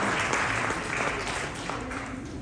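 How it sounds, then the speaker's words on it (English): An audience gives a round of applause for football coach Steve Komphela at a beer-sponsored event, a brief, dense burst of clapping that holds steady and fades slightly toward the end. "Give him a round of applause."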